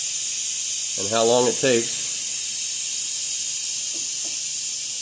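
Air ride suspension on a 2017 Harley Tri Glide bleeds off air as the bike lowers, a steady loud hiss running throughout while someone speaks briefly over it.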